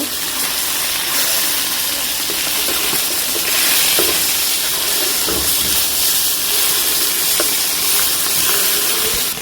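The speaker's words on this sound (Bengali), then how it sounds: "এখানে আমি মাছটা লাল লাল করে ভেজে নেব" Rohu fish fries in hot oil with a loud, continuous hiss and sizzle, close and unbroken, with faint scattered pops and clinks in the background.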